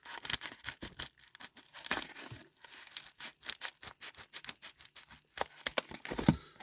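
Scissors cut open WWE mail packages, giving a rapid series of close, crisp snips, rips and plastic crinkles in irregular bursts with short pauses between them.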